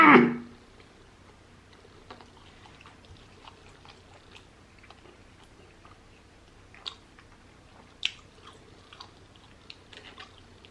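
Battered cheddar cheese curds dipped in caramel are chewed close to the mic, opening with one loud bite and then settling into faint, scattered crunches and soft mouth clicks over quiet background.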